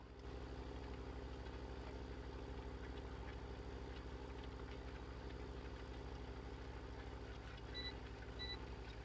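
Tractor engine idling in Farming Simulator 17 during night cultivating, a steady low continuous drone that holds level throughout, with a few faint high beeps near the end.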